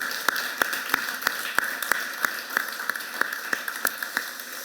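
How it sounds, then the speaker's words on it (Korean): A church congregation at a Sunday worship service claps in a steady, even rhythm of about three claps per second, fairly quiet and with no talking over it. "여러분 박수 한번 더 하시죠"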